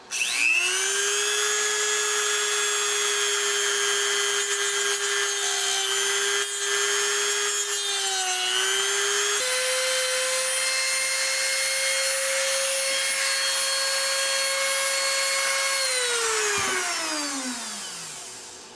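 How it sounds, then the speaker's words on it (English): A Dremel rotary tool whines at a high, steady pitch while cutting plastic tabs on a John Deere weed trimmer, shifting speed midway and winding down at the end. "I'm going to try a Dremel because I think this needs a little more adjustment than when it was brand new."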